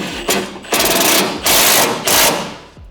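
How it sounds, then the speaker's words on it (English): Self-tapping screw driven by a power driver into a Toyota GR Supra body panel, four loud bursts of whirring drilling with short pauses between them, up close and without talk. "I'm gonna see what a self-tapper does"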